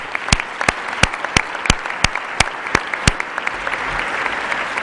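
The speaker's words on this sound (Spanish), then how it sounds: "les pido a todos que le den un aplauso" Audience at a finance awards night applauding a business partner of twenty years, a close, fairly loud burst of many hands clapping with a few sharp individual claps on top, tapering slightly toward the end.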